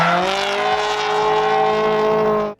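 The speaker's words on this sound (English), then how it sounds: "The engine screams." A Honda sports car engine screams at high revs, a loud, steady, harmonic whine held close up for a couple of seconds before cutting off abruptly.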